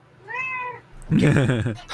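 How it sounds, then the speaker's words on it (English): A house cat meows once with a clear, rising-and-falling harmonic call, close to the microphone, followed at once by a person talking nearby. "Wow, kitty."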